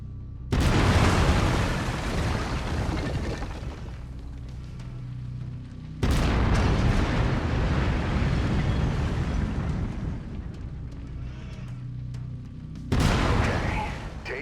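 A mech's autocannon firing in MechWarrior 5: Mercenaries, three massive, roaring blasts with long rumbling tails filling the space between them, very loud and dense, with no voices.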